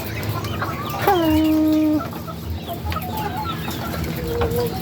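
Penned free-range chickens, 16-week-old RTL pullets, clucking in an enclosure, with one loud drawn-out call partway through among softer scattered clucks and chatter.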